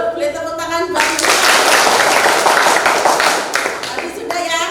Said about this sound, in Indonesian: Boleh tepuk tangan buat Vika.